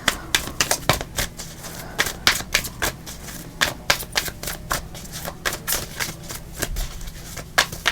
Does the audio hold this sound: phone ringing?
no